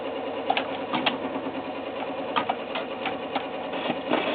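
A 1959 Westinghouse 44AC-1 record changer runs with a steady mechanical whir, and brief clicks and knocks recur at irregular intervals as the tone arm mechanism jerks.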